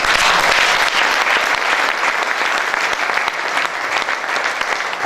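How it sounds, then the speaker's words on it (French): A church congregation at a couples' dinner conference applauds, producing loud, sustained, dense clapping from a large crowd that continues evenly throughout. "Est-ce que nous pouvons encore acclamer le Seigneur?"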